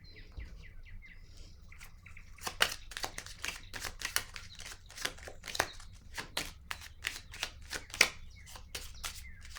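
Tarot cards shuffled and set down, a run of crisp, rapid papery snaps and slaps, fairly close and clear, with a brief softer riffle before the snapping sets in.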